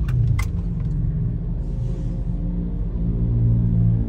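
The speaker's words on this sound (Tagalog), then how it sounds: "Andito ako sa traffic." Road traffic rumbles past in a continuous low drone heard from inside a car, with a steady engine hum, a few brief sharp clicks near the start and no voices.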